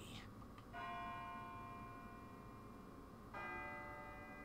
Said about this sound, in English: sounds like a bell, but where's it coming from?